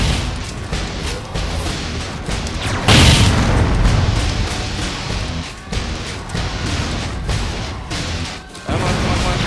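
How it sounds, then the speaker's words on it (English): A mega missile detonates in the Descent 2 space shooter, a loud booming blast with a rumbling tail amid continuous game noise and further impacts. "Fire a mega missile."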